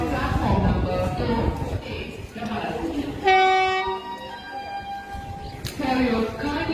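A new Amrit Bharat train pulls into Jaynagar station, a loud horn-like tonal blast sounding midway over rumbling rail noise, with station announcements and crowd chatter around it.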